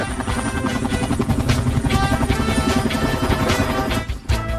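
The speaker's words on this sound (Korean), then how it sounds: "토마저씨 헬리콥터라고" A cartoon helicopter flies overhead, its loud, steady rotor chop throbbing continuously for several seconds before briefly dipping at the end, with no talking.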